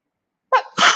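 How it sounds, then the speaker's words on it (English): A single human sneeze: a sharp inhaled catch followed by a loud explosive burst, close and alone with no talking around it. "Excuse me, I'm going to sneeze."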